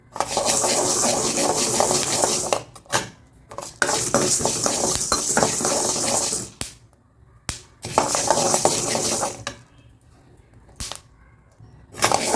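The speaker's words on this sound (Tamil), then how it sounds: "நல்லா கடுகு பொரியிற மாதிரி பொரியும்" Horse gram seeds dry-roast in a metal pan with crackling, popping and scraping as they are stirred, coming in loud close bursts separated by short quieter gaps.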